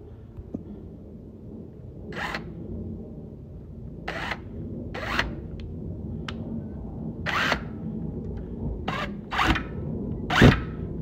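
Screws being driven into a door deadbolt during a DIY door knob and deadbolt replacement, a series of short whirring bursts separated by quiet gaps, close and fairly faint.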